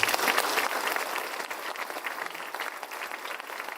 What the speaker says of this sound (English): you're gonna have to hear the applause